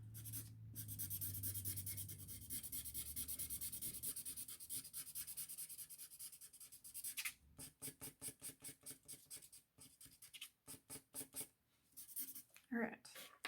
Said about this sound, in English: now that I've got the basics colored right up to the edge